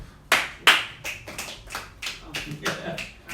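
A small audience claps after a spoken word performance, with two sharp, close claps followed by a looser run of scattered claps and taps while people talk and call out over them.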